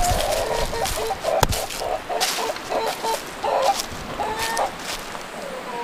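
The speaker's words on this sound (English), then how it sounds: "we're going to let some guineas loose" Guinea fowl calling as they are let loose, repeated harsh, rhythmic cackles from several birds at moderate distance over steady outdoor background noise, with a single sharp knock partway through.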